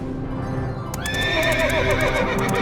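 A horse whinnies loudly with a shaky, descending neigh while hooves clip-clop in an uneven rhythm nearby.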